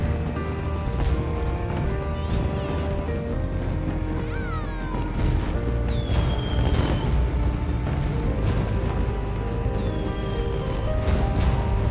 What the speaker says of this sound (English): Man, I never saw fireworks from that close up before.